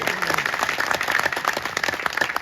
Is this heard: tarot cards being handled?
no